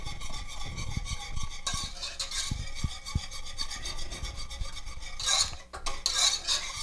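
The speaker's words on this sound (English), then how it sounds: "It's on medium-low heat, and now we're whisking it." Whisking a chocolate pie filling in a pot on a stovetop over medium-low heat, a continuous close scraping and rasping of the whisk against the pot, steady and fairly loud, with no talk.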